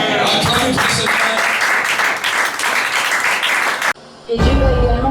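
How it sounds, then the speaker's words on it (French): A church congregation bursts into loud, sustained applause during a prophecy service, dense clapping that cuts off briefly near the four-second mark before resuming. "Acclamons pour cette main."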